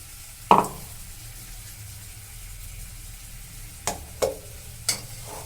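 Potatoes fry in a pan with ground red chilli spice paste and are stirred, giving a soft steady sizzle broken by a few sharp scrapes and clinks of the spoon against the pan.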